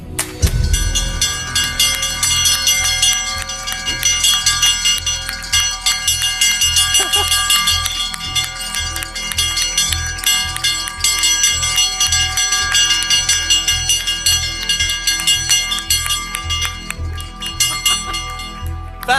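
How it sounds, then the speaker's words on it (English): Nasdaq opening bell ceremony in Stockholm, Sweden: a loud, continuous electric bell rings steadily with rapid metallic strikes for the whole stretch, close and dominant. "That's a bell well rung."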